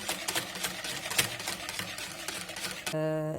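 Rapid rhythmic whisking of eggs and milk in a bowl for a cake batter, a fast ticking clatter, ending with a brief electronic beep tone.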